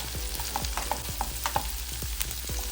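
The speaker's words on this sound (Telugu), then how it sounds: "ఉల్లిపాయ ముక్కలు, అలానే పచ్చిమిర్చి ముక్కలు ఇలా వేసుకొని ఒకసారి అయితే ఇలా కలుపుకోవాలి" Chopped onion and green chilli pieces sizzle in a hot pan while a spoon stirs them, giving steady frying hiss with scraping strokes, close and with no talk.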